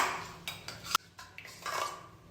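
A spoon mashing ripe papaya in a bowl, giving a series of soft clinks and scrapes at close range, quiet and uneven in rhythm, with no talk.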